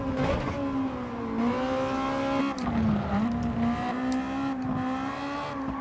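A Honda Civic EK touring car's VTEC engine in Gran Turismo 7 drones at high revs at Suzuka, pitch rising and dipping as gears shift, a steady synthetic roar with faint tire noise.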